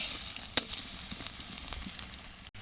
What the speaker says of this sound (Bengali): তেলের উপরে আমি আলু দিয়ে দেবো। যেমন আলুটা কিন্তু আমি এখানে লাল লাল করে একটু ভেজে নেব।